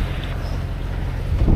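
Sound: strong wind on a boat leaving Agathonisi

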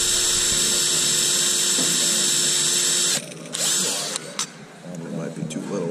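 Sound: drill drilling out a rivet head in aircraft sheet metal

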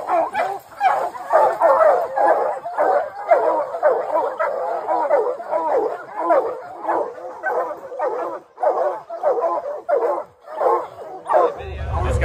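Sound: hunting hounds barking at a treed bear

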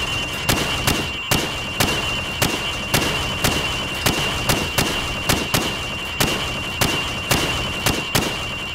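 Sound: rifle shots at pop-up targets in Call of Duty 4 video game

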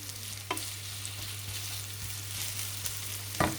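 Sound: onions frying in oil in a pan

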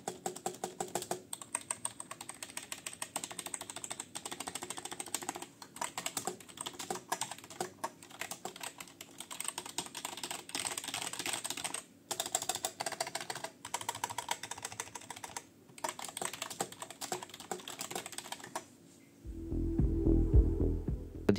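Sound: typing on a cheap non-mechanical RGB keyboard

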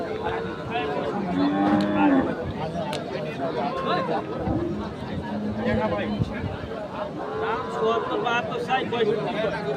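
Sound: cattle at a livestock market

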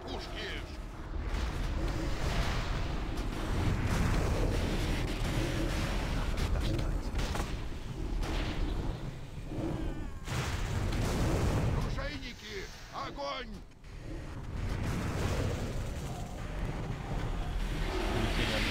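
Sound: cannon fire from a video game

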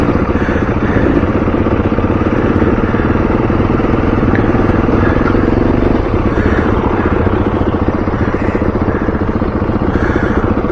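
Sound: trail motorcycle riding down a rut, front wheel locking

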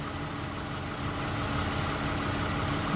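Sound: 2008 Toyota Highlander engine idling

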